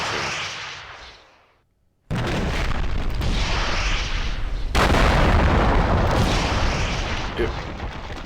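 A missile launcher from the Rival Rebels mod for Minecraft fires, giving loud sustained roaring blasts. One blast fades to silence, and then a second powerful burst follows with no break and a dense rumble.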